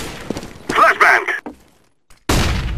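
A flashbang grenade bursts in the video game Counter-Strike, a loud sharp crack with ringing debris, followed by quiet and then another loud burst, with speech around it.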